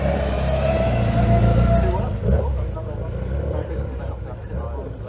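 A black Citroen accelerates at the Shelsley Walsh hillclimb, a loud engine drone that fades as the car moves away, with spectators talking over it.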